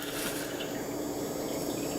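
Water runs steadily from a tap while a grouse gizzard is rinsed under it, a continuous close splashing wash with no pauses.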